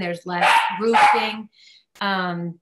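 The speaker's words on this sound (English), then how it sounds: "Sorry about the dog in the background." A dog barks loudly in the background of a town council and school board workshop, two or three sharp barks interrupting a person speaking.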